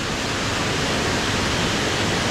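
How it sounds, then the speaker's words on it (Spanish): A waterfall on a river in Chiapas roars loud and close, a dense, unbroken rush of falling water that fills the whole clip with no voices over it. "río abajo, llegamos a esta cascada, vean."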